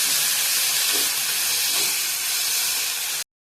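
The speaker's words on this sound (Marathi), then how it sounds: "तेलात चांगली शेंग भाजून घेतले" Hyacinth bean pods fry in hot oil, giving a loud, steady sizzle that runs unbroken before stopping abruptly.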